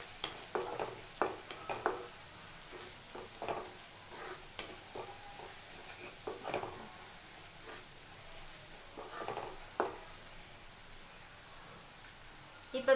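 Grated ginger frying in a pan as a spoon stirs it, a faint steady sizzle broken by soft, irregular scraping strokes, with no talking.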